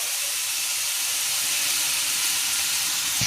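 Ginger-garlic paste added to deeply fried onions sizzles in a pan, a steady bright hiss holding evenly throughout with no speech.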